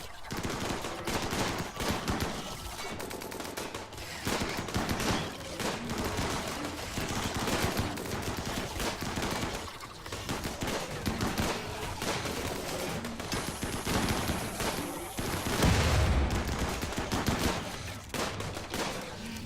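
A turret in the video game RimWorld fires in dense, sustained bursts of gunfire that carry on almost without pause, loud and crowded.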